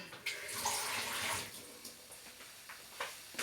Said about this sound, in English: I put a little bit of drop of water